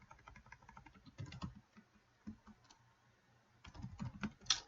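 Computer keyboard typing as a password command is entered in a VMware virtual machine session, with irregular bursts of clicky keystrokes, brief pauses between, and a louder flurry of presses near the end.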